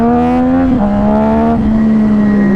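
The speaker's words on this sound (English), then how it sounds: "let's see if I can get off the line a little bit faster without wheeling" A Yamaha FZ09 motorcycle engine pulls hard off the line from idle, a loud steady droning tone that holds high and shifts pitch slightly partway through.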